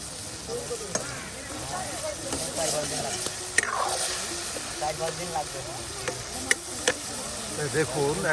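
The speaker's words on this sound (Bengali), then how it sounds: "আলুর সাথে কিন্তু এই যে মাংসগুলো কষিয়ে নেওয়া হচ্ছে" Meat stir-fried with potatoes in a pan over an outdoor village cooking fire, giving a steady sizzle with scraping stirs throughout, while voices talk in the background.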